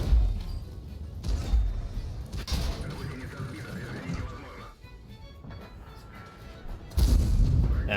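A tank cannon fires in a video game, a deep booming blast over rumbling engine noise, with a second heavy thump near the end and a voice talking over it.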